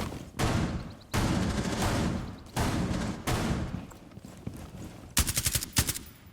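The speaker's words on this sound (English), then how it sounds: "You'd be able to hear the shotguns going off." Shotgun blasts in Rainbow Six Siege boom out one after another, several heavy separate shots at an uneven pace, ending in a quick rapid cluster of sharp reports.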